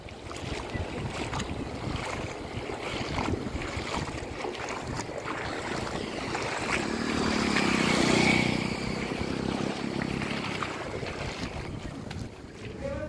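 Strong floodwater rushes across a road over rocky ground toward a lake, a steady, loud, broadband roar that swells around the middle before easing slightly.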